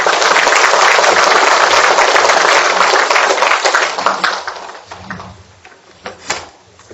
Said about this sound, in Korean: 이기각 교수님을 큰 박수로 환영해 주시기 바랍니다